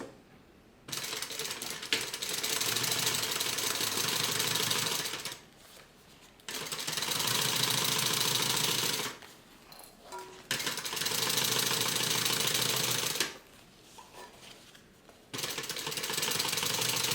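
A sewing machine stitches along the pocket of a tote bag in three long, steady whirring runs. Short quiet pauses separate the runs, and a final run begins at the end.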